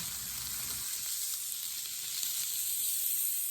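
Brussels sprouts sizzle steadily in a hot pan, a dense, even frying hiss running alone throughout at moderate level with no talk.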